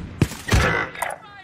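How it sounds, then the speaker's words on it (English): Two or three muffled gunshot bursts from Call of Duty Warzone play close in a brief, busy moment of a match, with a dull thud and some trailing noise. "There's someone shooting us from the left."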